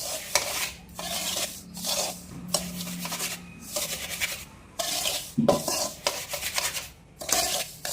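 Roasted semolina stirred in a metal pan for rava laddu, rhythmic scraping and rubbing strokes repeating about once a second, close and dry with a faint background hum and no talk.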